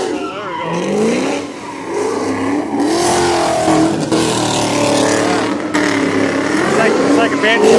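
A car engine at a car show revs hard and screams at high pitch like a two-stroke, loud and close, with tires squealing and a voice shouting underneath.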